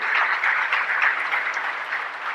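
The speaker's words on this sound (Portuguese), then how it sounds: "Aplauda essa glória de Deus." Applause from a church congregation during a sermon in Santos, steady and dense, filling the whole moment at moderate loudness with no talk over it.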